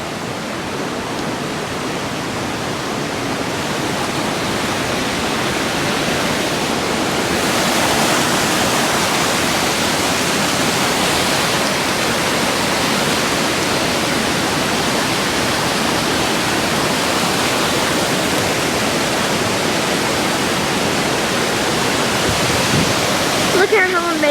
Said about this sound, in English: That's waterfalls on the rock.